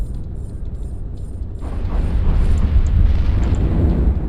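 Missile explosions in a video game land as a deep, rumbling blast that swells and holds loud and steady, with a faint rhythmic electronic beeping in the background.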